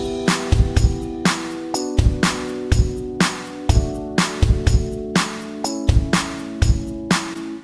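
Programmed drum pattern of kick, claps, snare, hi-hat, toms, shaker and tambourine, with a fill at the end of the bar; punchy low kicks and sharp bright hits repeat in a steady loop, loud and alone with no talking.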